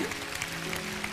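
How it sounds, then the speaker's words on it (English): An audience applauding at a motivational speaking event, a steady dense wash of clapping filling the whole moment, with a faint voice or tone humming underneath. "I thank you for your applause"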